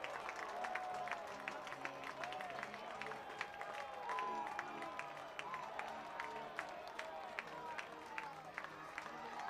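Crowd of over 5,600 at a Trenton Thunder minor-league baseball game cheering a walk-off win against the New Hampshire Fisher Cats, steady roar with scattered shouts, whistles and clapping throughout, a commentator's voice over it.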